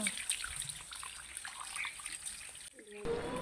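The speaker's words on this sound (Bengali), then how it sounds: "গাছটাকে একটু ধুয়ে দিই অনেক ধোলা জমে গেছে" Running water rinses a dusty indoor houseplant, a faint, steady splashing trickle with scattered drips and a brief pause near the end before the flow returns.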